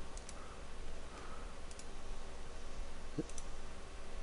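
Soft, sparse mouse clicks sound while formation circles are placed in scouting software, a few isolated taps spread over a steady low background hum.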